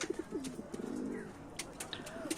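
Domestic pigeons in a home loft coo softly in short repeated low calls, with faint chirps and rustling around them.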